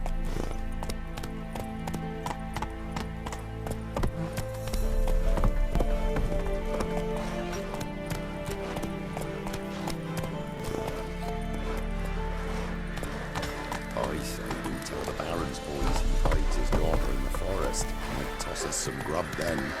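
Roach, the horse in The Witcher 3, gallops in a steady rapid clip-clop of hooves that stays loud and close throughout, with a game score playing beneath and voices speaking over it at times.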